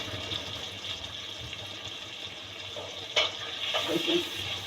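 Tomatoes fry in a pan for a mixed aloo matar gajar dish, a soft steady sizzle with occasional stirring clatter, close and low in level.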